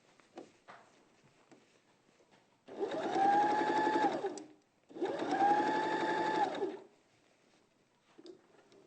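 A sewing machine stitches a curved shoulder seam during dressmaking, running in two steady bursts of about two and a half seconds each with a short pause between, loud and close, with faint quiet handling noise before and after.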